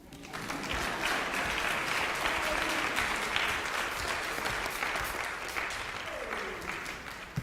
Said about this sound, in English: You can still clap for them.